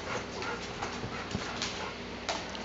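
A dog pants rapidly and steadily up close, with soft breathy rhythmic huffs and a faint whimper.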